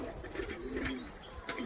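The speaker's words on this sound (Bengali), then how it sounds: "পায়রা সব।" Pigeons coo softly in a village in Burdwan, a few brief low calls with faint chirps over steady outdoor background noise, no talking.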